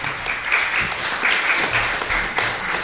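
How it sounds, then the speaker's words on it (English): Conference audience applauding a human rights panel speaker, a steady wash of many hands clapping in a hall, fairly loud and continuous. "Round of applause for Ms. Navi Pillay."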